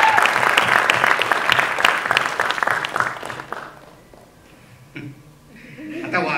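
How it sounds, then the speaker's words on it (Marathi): Loud audience applause at a film trailer launch event, dense clapping for about three and a half seconds before fading into quieter room noise with faint voices. "एकदा जोरदार टाळ्या सिद्धार्थसाठी"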